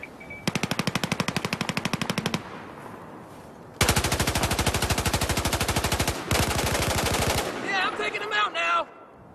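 Rapid automatic gunfire rattles in long sustained bursts during a military simulation game, loud and close, with a short gap between strings of fire and brief voices near the end.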